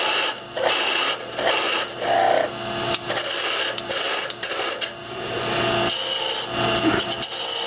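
Parting tool cutting into wood spinning on a lathe, a sustained rasping scrape with bright metallic whine that rises and dips as the cut is worked, with short breaks between passes.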